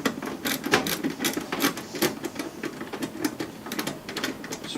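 A drive is screwed into a computer case, giving a quiet string of irregular clicks and ticks from the screws and driver, close to the microphone, with no talking.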